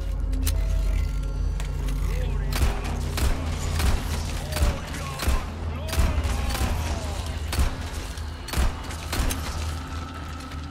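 Repeated sharp gunshots crack irregularly over a low rumbling soundtrack in Resident Evil 4 Separate Ways, with mechanical clanks and creaks between the bursts.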